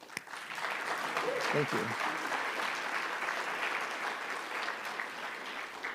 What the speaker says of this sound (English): They owe them an applause.